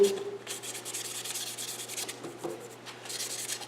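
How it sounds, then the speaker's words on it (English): Steady back-and-forth rubbing of sandpaper on a wood finish between coats, a soft rhythmic scratching in repeated strokes, close and fairly quiet. "I do recommend sanding with the grain in between coats"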